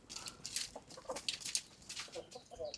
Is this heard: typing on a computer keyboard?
no